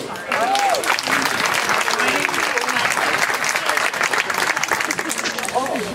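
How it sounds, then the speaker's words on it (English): Loud, dense applause from a large crowd fills the space, sustained throughout, with voices calling out and cheering over the clapping. "Let's give a round of applause for Dr. Özulu."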